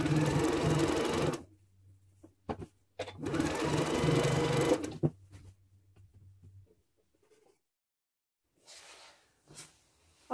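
A sewing machine stitches a king size duvet cover in two sustained whirring bursts, close and loud, then stops, leaving faint handling noises and a short later rattle.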